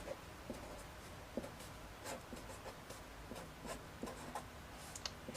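Pen or chalk writing out a mathematical induction step, a quiet run of short scratchy strokes and taps at an irregular rhythm, close up and with no voices.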